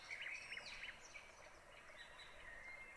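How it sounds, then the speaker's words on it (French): Birdsong in a forest: a few high, bright chirping calls close together in the first second, then softer, more distant twittering over a quiet hush of ambient air. "Vous écoutez les oiseaux qui chantent à vos côtés,"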